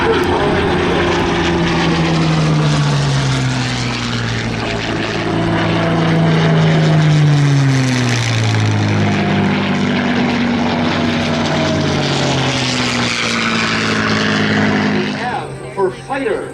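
The 1,300-horsepower Merlin engine of a P-51 Mustang roars loud and close at an airshow, its deep propeller drone rising and falling in pitch as the fighter passes, with a voice talking over it.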